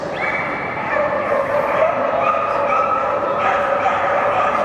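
A novice dog competing at a Kennel Club Olympia stakes show lets out continuous shrill yelping and whining barks, fairly close and steady over the murmur of the arena.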